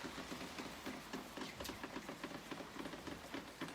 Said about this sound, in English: It's a rainy day, but it's still lovely.